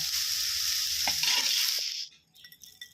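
Leftover cold rice being stir-fried in a pan, a loud steady sizzle with scraping stirs that suddenly drops away near the end, leaving only faint clinks and scrapes.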